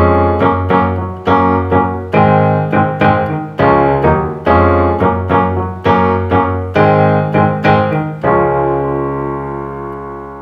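A guitar strums a fast, driving chord riff with sharp, regular attacks, loud and close, ending on a ringing chord that fades out.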